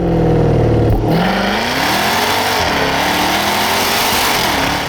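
A Jaguar F-Type accelerates hard in first gear. The engine's loud, close roar climbs steadily in pitch after a brief dip, with no talking.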